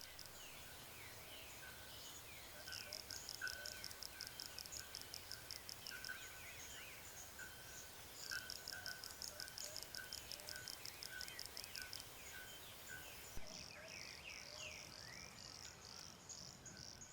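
Male frogs in Brazil's Atlantic Forest call in bursts of rapid, high pulsed chirps, repeated in long runs with short pauses over a steady hiss of forest insects and birds, no voices.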